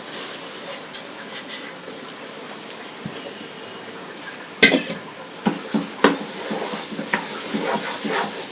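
Rice and onion for bhuna khichuri are stirred in a hot pan, giving a continuous close sizzle with scraping strokes and a few sharper clinks of the utensil on the pan, without speech.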